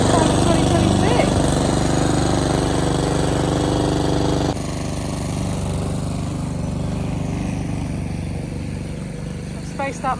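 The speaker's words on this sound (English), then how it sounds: "mowing the lawn" A lawn mower runs steadily outside a greenhouse, its engine drone continuous and fairly loud throughout, with a slight drop in level midway as it moves away.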